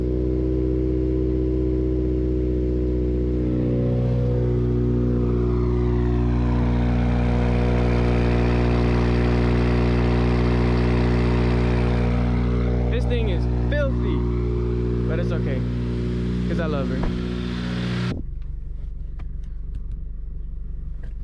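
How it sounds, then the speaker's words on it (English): A Subaru WRX engine warms up with a steady, loud low rumble, idling continuously before cutting off near the end; someone talks briefly over it. "car's been warming up for like 10 minutes"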